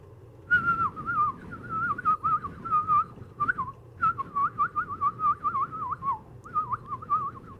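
A person whistles a warbling, birdlike melody in quick repeated phrases, imitating birdsong, with short pauses between bursts over a low background rumble.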